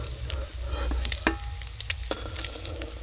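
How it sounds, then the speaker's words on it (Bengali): Eggs fry in oil sprinkled with black pepper, giving a steady soft sizzle with occasional light clinks and scrapes of a utensil in the pan. "ডিমগুলো কিন্তু লাল লাল করে ভাজা হয়ে গেছে।"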